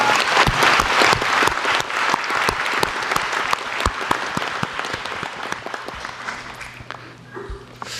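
Warm applause from a large audience at a public report meeting on science and technology in Daejeon, with individual claps standing out over the dense patter, starting loud and gradually thinning toward the end.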